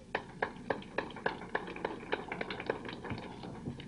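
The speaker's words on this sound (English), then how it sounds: "A round of applause." A small audience at a lecture claps faintly in a loose, sparse rhythm of separate sharp claps, heard from a distance and quiet throughout.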